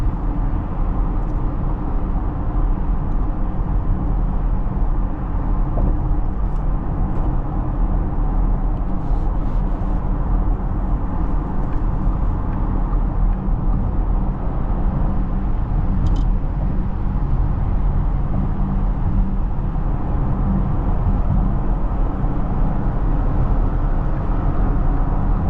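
Steady low engine drone and road rumble fill the cabin of a 2024 Porsche Cayenne V6 cruising through Atlanta, heard from inside without interruption and with no talking.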